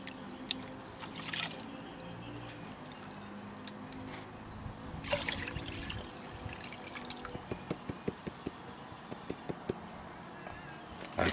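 Water sloshes and drips in a gold pan as black sand is panned at Leonora, a quiet swirling wash broken by small splashes and a run of sharp clicks near the end.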